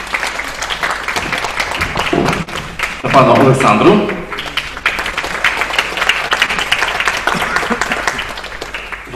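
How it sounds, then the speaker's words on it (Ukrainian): Audience applause at an art event, a steady crowd clapping that holds at even loudness for the whole stretch, with a voice briefly speaking over it partway through. "Аплодисменти"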